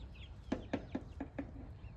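A rooster in a backyard chicken coop area gives five or six short, evenly spaced clucks, fairly faint, over a quiet outdoor background.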